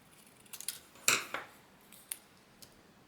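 Scissors trim paper for a handmade iris-folding Valentine's Day card, giving a few crisp close snips, one louder cut in the middle and quieter clips after it.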